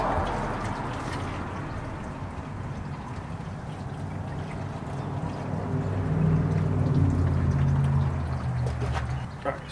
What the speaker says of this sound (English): Alright, so we'll let it drain for a bit there.